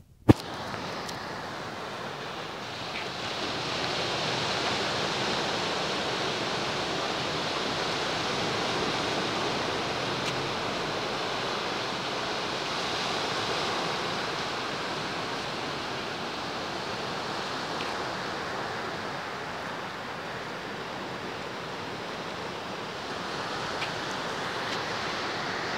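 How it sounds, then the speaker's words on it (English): Steady broadband wash of waves breaking on the beach along the Paignton sea front promenade, a continuous moderate surf roar with gentle swells and no voices. "So there's the beach and the promenade, and you would have seen the pier there in the distance."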